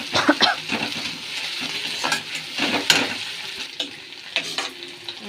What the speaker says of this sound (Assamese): এয়া মাছৰ তিতাটো ভাজি ল'লোঁ